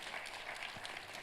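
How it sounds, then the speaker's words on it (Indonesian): A church congregation breaks into sustained applause for God during a sermon, a dense, even wash of many hands clapping, steady and moderately distant. "Tepuk tangannya yang meriah buat Tuhan kita."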